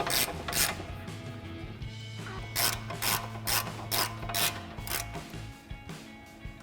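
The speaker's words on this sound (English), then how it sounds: "I'm going to take my 15 millimeter on my 1/2 inch ratchet" A 1/2 inch ratchet with a 15 mm socket clicks repeatedly while tightening the brake caliper bolts on a 1999-2004 Mustang, the close metallic pawl rattle coming in a quick run of strokes over a low mechanical rumble.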